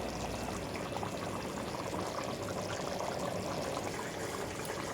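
Dissolved flour-and-water mixture is poured gradually into a pot of cooking fava beans for Alexandrian kishk, giving a steady, continuous liquid pouring and bubbling sound at moderate level, with no talking.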